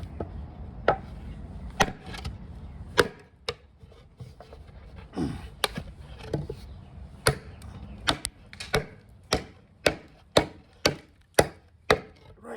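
A Walther MSM machete hacks repeatedly into a wood knot, sharp woody chops landing close and loud, irregular at first and then settling into an even, steady rhythm with no talking.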